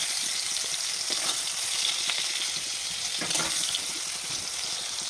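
Potol (pointed gourd) cooks in a small, bent kadai with a steady, close sizzle and hiss, broken by faint occasional stirring scrapes and no voices.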